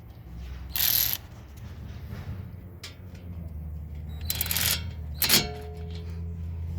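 A ratchet tightens the speed sensor bolt on a 2012 Infiniti M37x AWD during front hub bearing work, a few short ratcheting bursts close by with quiet gaps and mechanical rattles between them.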